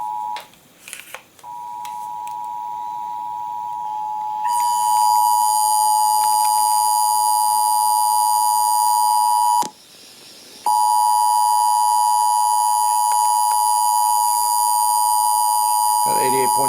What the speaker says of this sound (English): This is a test of the North Carolina Emergency Alert System.